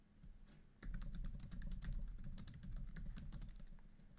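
HTML code is typed on a computer keyboard, a close run of quick, even key clicks that starts abruptly and carries on steadily without talk.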